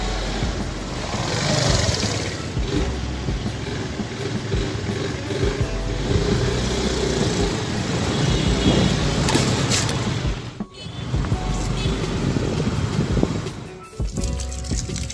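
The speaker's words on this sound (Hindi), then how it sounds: "और स्कूटरी मैंने पीछे स्टार्ट करके रख लिया" A parked scooter engine idles and runs steadily close by outdoors, a continuous buzzing rumble with slight fluctuations and a brief dip near the end.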